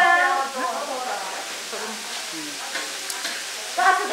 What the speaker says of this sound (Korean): 잡채를 만들기 위한 기본 재료들의 손질을 마치고 이제 볶는 작업이 본격적으로